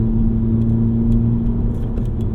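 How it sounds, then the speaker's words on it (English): A 2018 VW Golf GTI engine drones with a deep, grumbling exhaust rumble at steady speed, loud and close, with faint ticks above it. "the exhaust sort of helps you hear the engine a bit more. It's got a nice deep, like, grumbly sound"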